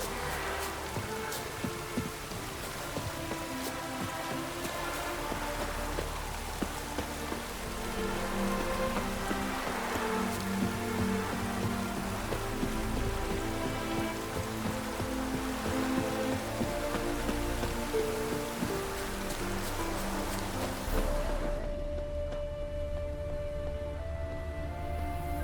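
Rain falls steadily in The Witcher 3: Wild Hunt, a continuous patter of drops that cuts off abruptly near the end, mixed with soft game sounds and no speech.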